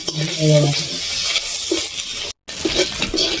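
Shrimp frying with a little turmeric in a pan give a steady sizzle with stirring scrapes and a brief gap, with faint talk partly over it.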